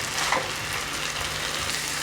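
A potato and chicken keema mixture stirred in a hot pan, with a steady sizzling frying hiss throughout and a soft scrape of the spoon near the start.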